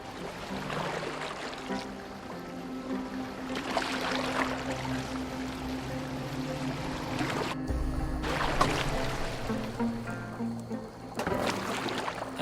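A boat glides through wetland water in the Assassin's Creed Valhalla video game, with repeated swells of splashing and rushing water at a rowing-like rhythm over a low steady drone, no speech heard.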